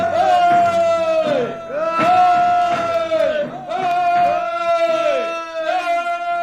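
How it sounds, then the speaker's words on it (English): Crowd cheering and applauding as a royal barge arrives carrying a young king and queen, a loud, continuous swell of voices and clapping with strong tonal shouts rising and falling throughout. "The cheers and applause rang loud."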